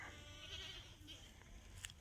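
Yearling does and a goat herd bleat faintly in the distance over a windy outdoor background, with soft brief calls during a short stretch of farmyard ambience.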